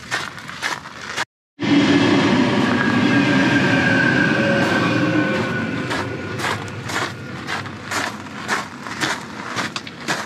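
A freight train rumbles steadily and loudly nearby in Germany, with a broad roar, metallic rattling and periodic clunks, no voices.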